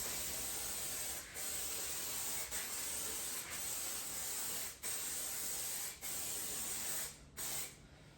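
An aerosol can sprays in long steady hissing bursts separated by brief pauses, close and continuous, with no talking.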